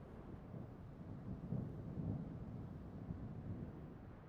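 A thunderstorm with heavy rain in the video game Roadcraft gives a fairly faint, continuous low rumble of thunder over a dense wash of rain, swelling slightly midway.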